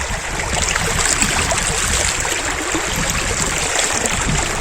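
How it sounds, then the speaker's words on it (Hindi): A river with a strong, fast current flows in a continuous, loud rush of water close by, dense and unbroken throughout, with no talking. "बाकी पानी का बहाव तेज़ है"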